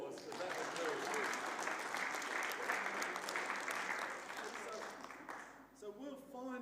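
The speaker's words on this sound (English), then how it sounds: "I think you better give them an applause, because that was very good." Applause from a church congregation fills most of the stretch, a steady dense patter that fades near the end as a voice begins speaking.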